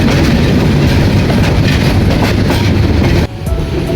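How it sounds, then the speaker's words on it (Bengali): A passenger train bound for Sylhet from Dhaka runs loudly nearby, its wheels clattering in a steady rumbling rhythm before the noise drops abruptly near the end. "এখন ট্রেনে চড়বো, তারপর ইনশাল্লাহ রওনা হয়ে যাবে সিলেটের উদ্দেশ্যে।"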